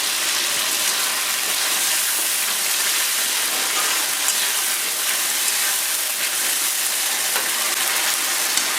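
Cumin and ginger paste sizzles in a hot pan with tomato, a dense, even frying hiss that stays loud and close throughout without any voices.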